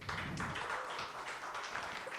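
A room of event attendees claps for the panel moderator, a short burst of steady, moderately distant applause with no voices on top.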